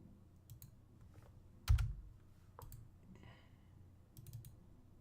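A few scattered keystrokes and clicks on a computer keyboard, faint and sparse against low room hum, with one slightly heavier tap near the middle.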